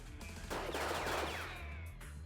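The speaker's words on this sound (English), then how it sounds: "The gunshots echo even louder" A rapid burst of gunfire rattles out, sharp cracks with a ringing echo, then fades back to a low background hum.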